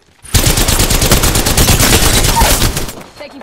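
Loud, sustained automatic gunfire from Apex Legends, rapid continuous bursts filling nearly the whole stretch up close before cutting off near the end.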